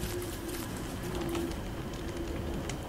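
Bird cooing from the survival video game Don't Starve Together, a soft, repeated dove-like call heard at low level over a steady ambient game background.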